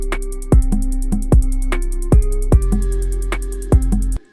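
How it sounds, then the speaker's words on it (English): Hi-hat pattern sequenced on a Redrum drum machine in Reason 10, crisp ticks repeating in a fast steady grid over regular heavier hits, loud and alone. "A quick way to sequence your hi-hats is also to use the Redrum."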